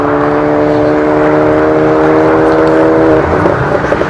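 Car engines at a quarter-mile drag race at Aldenhoven, a VW Touareg V8 against a Golf GTI, producing a loud sustained droning whine that holds steady then breaks up near the end, close and alone without talk.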